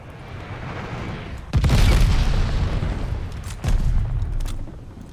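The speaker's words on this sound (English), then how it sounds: "Got an enemy glide bomb on the way." A glide bomb in Call of Duty Vanguard detonates with a heavy, deep boom, followed a couple of seconds later by a second rumbling blast, both loud over low battlefield noise.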